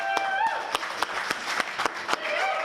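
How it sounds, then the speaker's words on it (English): An audience claps at a boxing press conference for a fight night, a short burst of brisk, evenly spaced claps heard fairly close. "Give everyone a round of applause."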